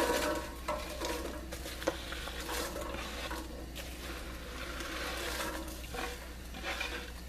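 Onions dropped into about two to three tablespoons of melted butter in a pot for a mushroom and onion bisque, giving a steady, close sizzle with soft stirring scrapes throughout, no voices.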